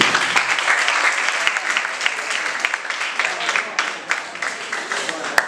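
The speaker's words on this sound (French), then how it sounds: "Est-ce qu'on peut applaudir?" An audience at an African youth literary talent event breaks into steady applause, a crowd of hands clapping continuously with a few sharper claps standing out.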